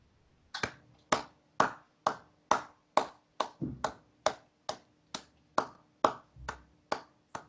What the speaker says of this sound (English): Sarcastic clapping over